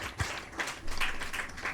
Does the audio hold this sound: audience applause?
yes